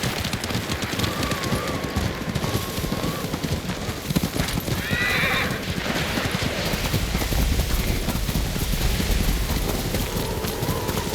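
Steady clip-clop of horse hooves runs throughout, with a brief whinny in the middle and a constant rushing noise behind it, from the video game Ghost of Tsushima, in worsening weather.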